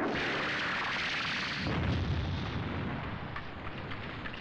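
Rockets fired from a fighter jet strike a target, a sustained roaring, rumbling blast that swells and then settles into a long, heavy rolling rumble, loud and with no voices.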